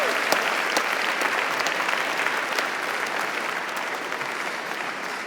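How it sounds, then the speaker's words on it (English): Audience at the 2018 SAGE Awards gala applauding, a dense sustained clapping from a large crowd that stays loud and even throughout. "please give yourselves a big round of applause"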